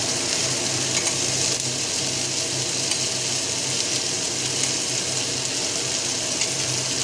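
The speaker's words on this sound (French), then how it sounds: "Et on remue." A spoon stirs a béchamel filling mixture for stuffed cannelloni in a pan, a steady, close scraping and sizzling swish that continues without break.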